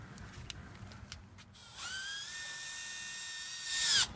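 A drill-driven sanding pad from a 3M headlight restoration kit spins up against a headlight lens, whining steadily for a couple of seconds and rising sharply near the end, after a few quieter taps and handling noises.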